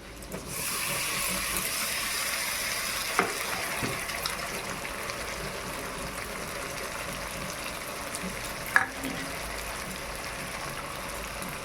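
Ginger-garlic paste spits and hisses as it hits well-browned onions in a pan, part of a chicken ghugni; a steady, moderately faint sizzle runs throughout with a couple of brief knocks.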